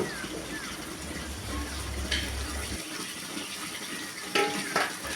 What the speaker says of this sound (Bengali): আমি এখন গামলিতে করে জল নিয়ে নেবো।